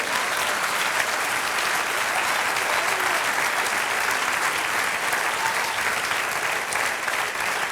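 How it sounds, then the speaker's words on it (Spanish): Steady, dense applause from a church congregation fills the space after a sermon line, even and sustained from start to finish with no voices rising above it. "Denle un aplauso al Señor."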